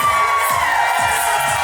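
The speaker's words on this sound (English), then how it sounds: "Ladies and gentlemen, on the dance floor, give yourselves a huge round of applause" Wedding guests on a dance floor cheer and whoop as a loud, dense crowd, steady throughout with no single voice standing out.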